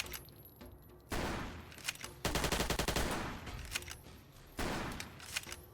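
A gunshot headshot in the video game Fallout: Tale of Two Wastelands, heard as sharp bursts of firing at moderate volume with a broad noisy wash between the shots and no talk.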